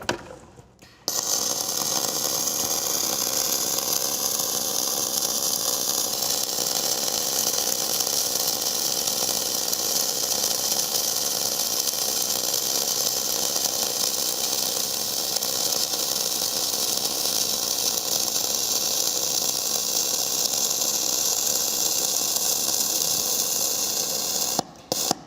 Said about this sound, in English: So you can hear kind of that soft arc